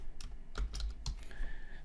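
Someone types on a computer keyboard and clicks a mouse while renaming objects in a 3D rendering program, giving close, fairly loud scattered clacks and taps over a low room hum.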